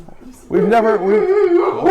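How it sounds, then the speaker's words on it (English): Several pet dogs indoors in a house howl and yelp together in long, wavering, rising and falling wails, loud and close, starting abruptly after a quiet moment and continuing steadily. "We have a couple of dogs here that are our dogs here in the house"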